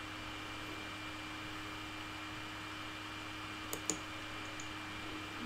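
Two quick, quiet computer mouse clicks on the Microsoft Teams start-recording control, a fraction of a second apart, over a steady low room hum.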